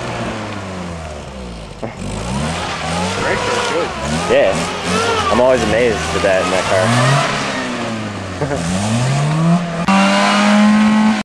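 A 1983 Toyota Tercel spins its tires while doing reverse donuts, the engine revving up and down in rising and falling sweeps with tire squeal over it, close and loud, while people talk excitedly over the noise.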